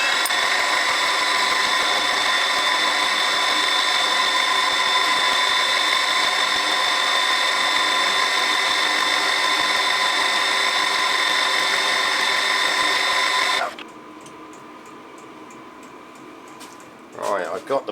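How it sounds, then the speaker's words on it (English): A milling machine cuts a face on a model steam pump body, a steady high whine with a fine ticking pattern lasting many seconds before stopping abruptly, followed by quiet and a few handling clunks. "So we just machine this one, and then that'll be the last of the faces."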